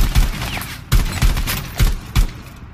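Shotgun fire in Rainbow Six Siege, the Skeleton Key weapon: five heavy, booming blasts in quick, slightly uneven succession, loud and close with short decays between them.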